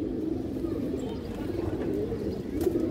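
Bagha and Beji pigeons coo softly in low, repeated throaty calls, with faint background rustling and no talk.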